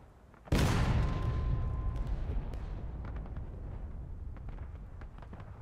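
A Civil War-era cannon fires once in War of Rights: one loud, sudden boom close by, followed by a long rumbling decay and a few faint distant cracks.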